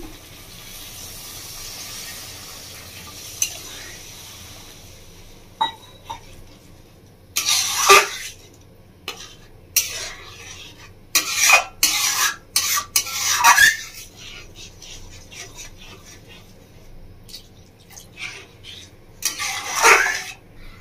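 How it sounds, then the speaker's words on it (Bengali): Water is poured into sizzling spice masala in a pan while cooking doi potol (dahi parwal). Short bursts of loud hissing and spitting come with metal clatter and stirring between quieter stretches, and no one speaks. "বন্ধুরা এবার আমি দিয়ে দেবো মধ্যে জল"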